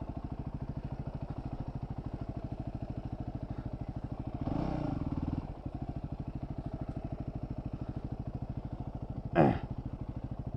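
A heavy motorcycle engine idles with a steady, rapid low throb, close and fairly quiet, with a louder clattering surge partway through and a brief sharp scrape near the end.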